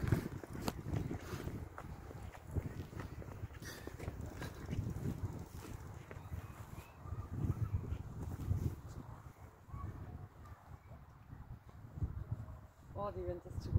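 Steady wind buffets the microphone with a low rumble throughout, and a person speaks briefly under it.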